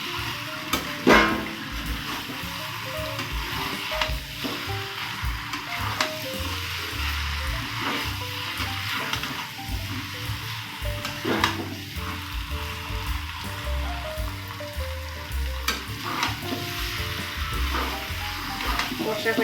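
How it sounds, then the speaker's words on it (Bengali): Shrimp sautéing with jackfruit in a pan, a steady sizzle and frying hiss with occasional stirring scrapes and clinks, moderately loud and continuous, with music playing underneath. "এখানে অ্যাড করব চিংড়ি মাছ। ভালোভাবে কষে নেব।"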